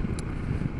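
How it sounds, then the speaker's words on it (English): Gusty wind buffets the microphone on a very windy day by the south coast, a steady low rumble with no talk. "it's a very windy day today."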